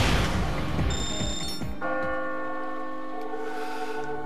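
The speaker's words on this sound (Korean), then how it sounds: "어 종소리가 들리는군" A bell chimes in the puzzle video game Catherine, several bright ringing tones that sustain and decay in layered overtones, with a deeper resonant toll settling in after the first strikes.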